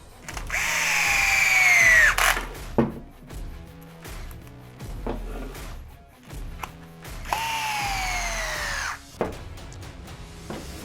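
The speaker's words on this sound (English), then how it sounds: "you need to use your 3mm hex driver" An electric hex driver fitted with a 3mm bit whirs in two rising, whining bursts while screws go back into an ARRMA Kraton 8S RC car centre differential, with small clicks and handling noises between the bursts.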